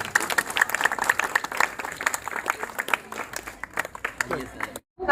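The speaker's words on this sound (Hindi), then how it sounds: "तालियां तो बजा दो।" A crowd at an Independence Day community celebration in Sarita Vihar, New Delhi, claps in a loose, uneven burst with voices mixed in, the applause fading before a brief silence and a sudden return of sound.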